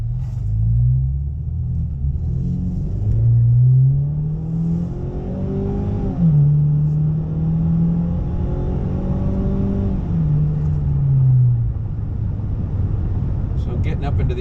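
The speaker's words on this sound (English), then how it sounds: "Alright, we're gonna do some acceleration" A 2022 Ford Maverick with a Street Race dual tip exhaust pulls hard through several gears, a deep, loud baritone drone whose pitch rises and then drops at each shift, with someone talking over it.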